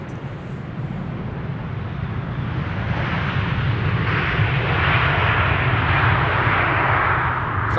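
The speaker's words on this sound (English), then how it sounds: "It looks like an idle reverse landing though." A 20-year-old airliner lands at Amsterdam Schiphol using idle reverse thrust, its broad engine roar building steadily in loudness across the landing rollout into a sustained rushing rumble.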